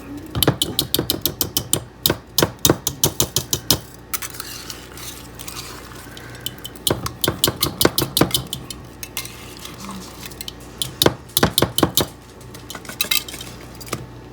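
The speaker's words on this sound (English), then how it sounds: "I'm going to use the whisk and kind of break it up" A whisk clatters briskly against a bowl while breaking up cranberry sauce for a dairy-free cranberry fluff, giving close, loud bursts of rapid metallic ticking separated by short pauses.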